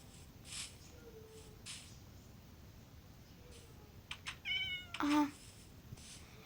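A Minecraft cat meows a few times, short harmonic cries around the middle and end, over a steady low background hum.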